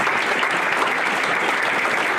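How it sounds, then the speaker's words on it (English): A steady, dense round of applause fills a high school hall of fame induction hall, loud and continuous from a large crowd. "How about a round of applause for all the athletes?"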